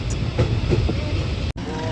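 Steady low rumble of a train rolling along the rails as it arrives at Murudeshwar station, with a brief dropout near the end; continuous and fairly close.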